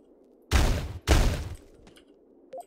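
Two heavy, booming shotgun blasts in the top-down shooter Teleglitch, about half a second apart, each with a short rumbling tail, followed by a small electronic blip.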